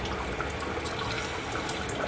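Hot tap water running over a pie pan in a sink, a steady loud close splashing rush with no talk.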